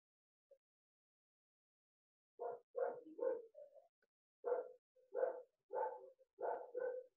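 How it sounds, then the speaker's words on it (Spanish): A dog barks in a quick series of sharp barks at a moderate distance, with short gaps between them in an otherwise quiet setting. "Hay un perro que ladra"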